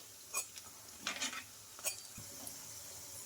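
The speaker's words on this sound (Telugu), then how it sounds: "ఇంకా వీటిని కూడా అటు ఇటు తిప్పుకుంటూ క్రిస్పీగా వచ్చే వరకు అయితే ఫ్రై చేసుకోవాలి మనం వీటిని." Semolina snacks fry in a pan and are turned until crispy, giving a faint sizzle broken by a few soft scrapes and clinks of a utensil, with no talking.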